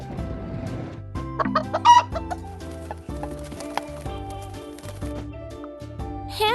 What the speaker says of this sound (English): Where is the hen?